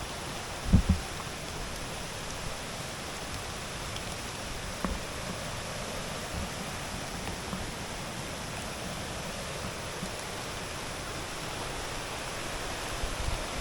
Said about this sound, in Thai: ฝนก็ยังตกแรงอยู่เลย